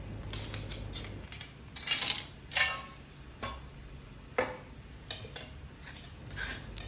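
Dishes and pans being cleaned up after cooking a beef roll: scattered clinks and clatters of metal and crockery come in irregular bursts over a low background hum, with no talking.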